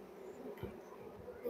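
Honeybees left at a hive drone with a steady, soft buzz against faint background noise, a single insect passing close by at one point.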